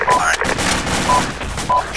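Rapid bursts of gunfire crack and boom in a military squad game set on the Gothic Line, several sharp shots spread across the moment, with radio-style voices speaking over the shooting.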